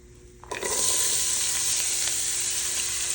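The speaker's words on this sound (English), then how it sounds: "to that we're gonna add 1 big chopped onion" Big chopped onion hits warm oil in a pan and bursts into a loud, steady sizzle that holds without a break, with no talking.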